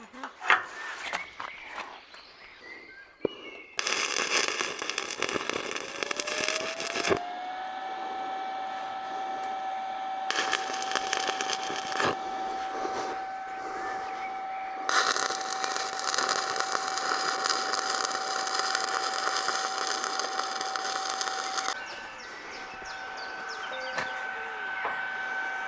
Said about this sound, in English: I will weld this one and we will see